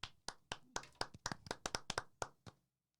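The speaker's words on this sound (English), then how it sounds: "Can we get some claps?" A small group claps in a quick, uneven burst of about a dozen sharp, close hand claps that stop abruptly after a couple of seconds.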